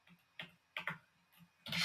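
Slow, sparse keystrokes on a computer keyboard, a few separate clicks spaced irregularly and heard close and fairly quiet.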